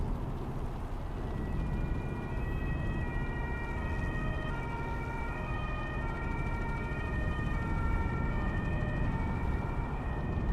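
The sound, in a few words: police sirens in Euro Truck Simulator 2 video game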